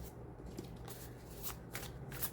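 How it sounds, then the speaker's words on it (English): Quiet riffling and soft flicks of a deck of cards being shuffled, faint and continuous with a few light snaps. "as I was shuffling this deck"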